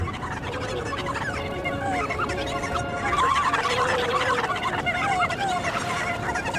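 Chickens cluck and squawk during a Twilight Princess cutscene, a steady run of overlapping fowl calls over the game's soundtrack, loud throughout with no talking.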